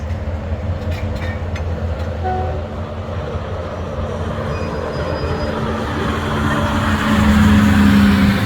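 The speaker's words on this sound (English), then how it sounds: "So a few times per day the train is still passing the bridge." A train crosses the Bridge on the River Kwai in Kanchanaburi, Thailand, in a constant heavy roar, with rattling wheels and faint metallic squeals that grow slightly louder toward the end.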